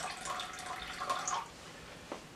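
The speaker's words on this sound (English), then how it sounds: "I'm just gonna pour the steaming hot water" Steaming hot water poured into a container while making papo secos bread rolls: a soft, brief splashing stream for about a second and a half, then a faint drip, close and quiet with no talk.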